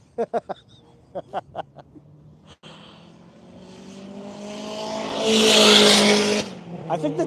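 A race car revs hard with a loud, whistling turbo that swells to a peak and then fades, preceded by a few short engine blips.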